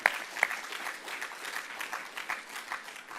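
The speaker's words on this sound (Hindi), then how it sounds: "तो जोरदार तालियां इसके लिए" Audience applause at a Swami Ramdev yoga gathering, a sustained wash of clapping from a crowd that starts with a couple of sharp claps and continues evenly with no voices.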